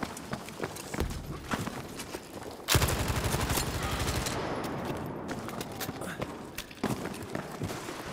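Bursts of BAR 1918A2 automatic rifle fire in an underground-map video game, sharp short volleys at the start and a long sustained burst in the middle, loud and close, with other game noise around.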